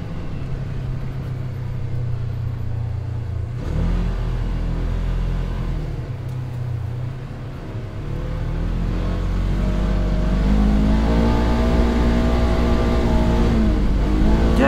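A Polaris Xpedition off-road vehicle driving at speed on a cliffside trail, its engine a loud steady drone that dips briefly then climbs in pitch as it accelerates, with wind and rumble throughout.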